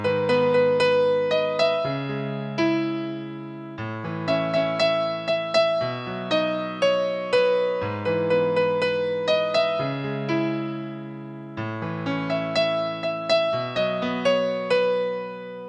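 Piano chords rolled upward one note at a time, each note sounding in turn and ringing into the next in a steady repeating pattern, played alone and close with no talking.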